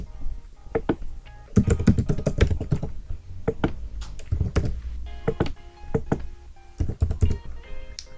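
Quick bursts of keystrokes on a computer keyboard, clicking in short irregular runs with brief pauses, close and clear, no voices.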